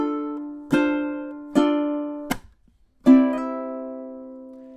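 A ukulele plays a sparse riff, four clear plucked notes ringing out one after another with a short gap before the last, sustained note.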